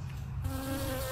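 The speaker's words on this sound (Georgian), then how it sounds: "ფუტკარი, ვაიმე." A bee buzzes close by, a brief droning hum that starts and holds steady for about a second with no voices over it.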